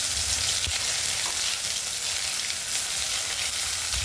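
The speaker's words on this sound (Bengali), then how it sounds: "এবার সেই তেলের মধ্যে দিয়ে দিচ্ছে পেস্টটা" Onion, ginger and garlic paste hits hot oil in a kadai, producing a loud, continuous sizzle with a low rumble underneath and no speech.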